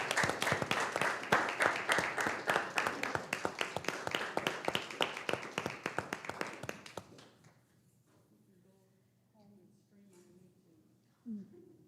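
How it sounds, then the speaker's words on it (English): Board of education meeting audience claps for about seven seconds, a close, fairly sparse patter of hands that fades out, followed by quiet room noise and a brief voice. "We'll clap you out."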